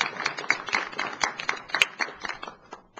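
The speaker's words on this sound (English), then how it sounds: "please join me in a round of applause for our researchers" Audience applause for university researchers at a Board of Curators meeting, a dense patter of many hands clapping steadily for a few seconds, close and fairly loud, then thinning out.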